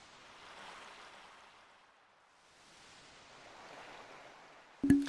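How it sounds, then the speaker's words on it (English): Soft waves wash in and recede in slow swells in a Pokémon Mystery Dungeon video game, with gentle surf hiss and a sudden loud knock near the end. "Enjoy the sounds of the water."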